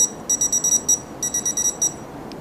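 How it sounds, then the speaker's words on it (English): Electronic beeping from the collar of an underground electric pet dog fence as its shock tester lights up: a run of short, evenly spaced high-pitched beeps in two clusters separated by a brief pause, clear over faint background hiss. "You hear the beeping, you can see the light, the shock is being administered."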